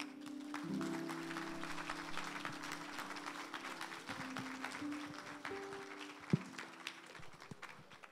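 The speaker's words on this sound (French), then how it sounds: "On applaudit le Seigneur." A church congregation applauds the Lord after a sermon, a soft, fairly distant patter of clapping that continues steadily with a faint tonal hum underneath and a single sharper tap near the end.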